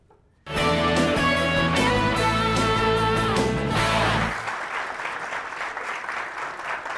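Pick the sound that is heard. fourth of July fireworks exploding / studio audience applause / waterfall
studio audience applause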